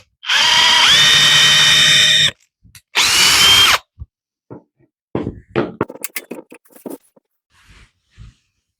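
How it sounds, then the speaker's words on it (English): An 8mm bit drills into a wooden woodturning blank in two close, steady bursts, a long whine followed by a shorter one. Scattered clinks and handling knocks come after. "take that 8mm drill bit and create a nice small insertion so I can get this worm screw mounted into the piece"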